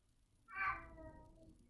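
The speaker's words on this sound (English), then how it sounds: "I can hear my cat running down the hallway." A single short meow rings out clearly from nearby in an otherwise quiet room.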